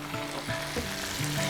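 Garlic and black pepper sizzle steadily in a hot pan for a Filipino sauté, a constant crackling fry with a few stirring scrapes and no talking.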